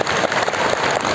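Brief burst of audience applause at a Shiv Mahapuran religious discourse in Kabirdham, steady dense clapping from a large crowd filling the whole short moment.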